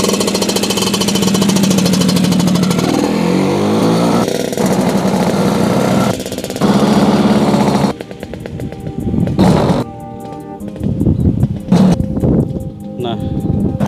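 A 1989 Vespa PS Strada scooter with a 180cc engine runs close by, rumbling steadily, then sputters and revs in uneven bursts, with voices heard at times.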